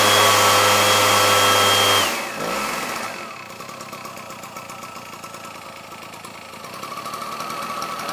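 Engine of a peach orchard sprayer machine starting up, with a loud steady drone that drops off after a couple of seconds and then settles into a rough, knocking idle that rises slightly toward the end.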